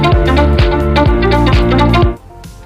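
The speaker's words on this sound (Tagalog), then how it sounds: "ito po yung tunog ng built-in music niya" A loud synthesized dance loop, punchy bass drum hits in a regular pulse under layered keyboard tones, then an abrupt drop to quiet.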